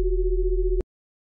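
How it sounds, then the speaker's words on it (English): A plain sine wave tone from the Serum software synthesizer, steady and clean, holding for under a second before cutting off abruptly into silence. "load a sine wave on the sub and a sine wave on oscillator B or A"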